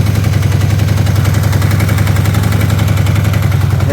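A Honda CB400 motorcycle with a noisy cam chain idles up close, a loud steady engine rumble with a rapid rattling ticking layered through it, continuous and unbroken.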